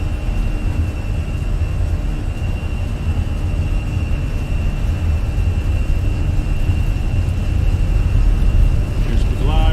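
A Volaris airliner in Microsoft Flight Simulator runs its engines at takeoff power for the departure out of Cabo. The roar is loud, steady and continuous, with a constant drone throughout and a faint tonal whine riding above it.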